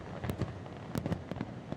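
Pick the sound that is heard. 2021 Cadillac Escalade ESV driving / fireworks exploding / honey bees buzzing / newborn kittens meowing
fireworks exploding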